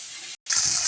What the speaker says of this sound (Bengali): এখানে ভাপা মাছ ভাজা হচ্ছে